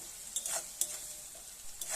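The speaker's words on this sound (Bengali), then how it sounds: "পেঁয়াজটা কিন্তু একটু ভাজা হয়ে এসেছে" Onions frying with a little salt in a pan, a soft continuous sizzle broken by several brief stirring scrapes, close and quiet with no voices.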